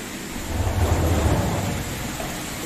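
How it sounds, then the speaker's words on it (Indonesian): Heavy rain in Surabaya pours as a dense, steady wash of noise, with a low rumble swelling in the middle and no voices. "Nah, ini hujan."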